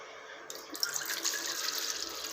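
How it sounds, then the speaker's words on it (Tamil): Tender coconut water is poured into a small pan, starting after a brief quiet moment. It becomes a steady, close splashing trickle that continues to the end. "ஒரு சின்ன வானல் வச்சு இதில் குளுக்கோஸ் தண்ணி, அதாவது நம்மளுடைய இளநீர் தண்ணியை ஊற்றிருக்கேன்"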